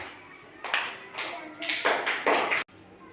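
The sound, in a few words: applause for a child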